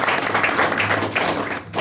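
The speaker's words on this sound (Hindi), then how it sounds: "एक बार जोरदार तालियां" Applause from a health-talk audience fills the space as a dense, steady patter of many hands clapping, fairly loud and continuous through the whole short stretch, with no voice over it.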